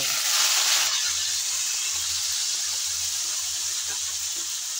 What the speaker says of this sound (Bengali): এখন আগে থেকে সিদ্ধ করে রাখা শাকগুলো দিয়ে দেব।